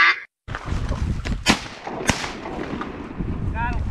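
A shotgun blast booms out during waterfowl hunting in a Wisconsin duck and goose season, a second sharp report following shortly after, over a noisy outdoor background with a brief duck call near the end.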